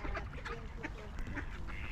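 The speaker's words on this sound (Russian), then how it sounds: "Смотрите, сколько птиц." Ducks and geese in an English park at Christmas, with dense overlapping quacks and honks from a close flock that continue throughout, alongside faint background noise.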